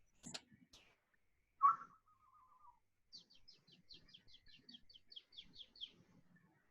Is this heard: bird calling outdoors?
yes